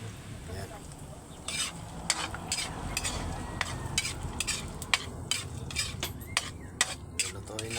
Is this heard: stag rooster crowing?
no